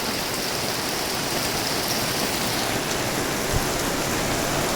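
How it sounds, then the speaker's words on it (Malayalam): Heavy rain pours down nonstop onto a home with a sheet roof, a dense, loud, unbroken hiss that fills the whole stretch with no voices. "മഴ നിർത്താതെ പെയ്യുന്ന മഴ"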